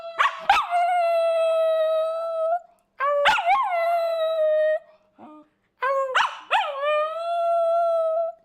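A puppy howls on request in three drawn-out, wavering bouts with short gaps between them, close and loud, with no talk over it.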